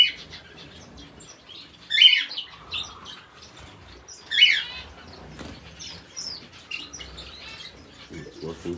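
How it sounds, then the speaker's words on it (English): Newly hatching baby canary chicks give faint, thin high chirps in short bursts, with a few louder peeps standing out against a quiet background and soft rustling. "Got our first baby canary hatching out right now."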